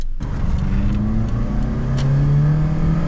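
A Toyota RAV4 in power mode accelerates hard, its engine note rising steadily in pitch, loud and close with a continuous whir and no talk.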